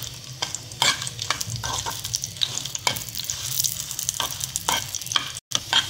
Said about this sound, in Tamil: தேவையான அளவு நல்லெண்ணெய் ஊற்றி மிளகாய் வறுத்துக்கோங்க